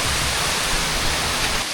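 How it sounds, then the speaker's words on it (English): Waterfall seen on a day spent living from a Land Rover Defender: steady, dense broadband roar of falling water, constant and loud, with no other sounds. "Probably top 5 waterfalls I've ever seen, to be totally honest with you."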